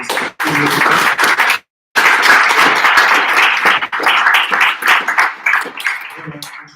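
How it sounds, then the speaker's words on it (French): Audience applause at a tech meetup, bursts of fairly close clapping broken by a short silence, thinning into scattered claps toward the end. "On applaudit CFM"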